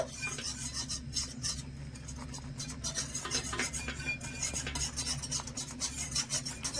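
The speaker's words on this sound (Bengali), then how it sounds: "ভালো করে মিশিয়ে নেব" Milk powder being stirred into milk in a pan for chhena payesh, a steady scraping and swishing with spoon rasps repeating through the whole stretch, close and moderately soft, with no talking.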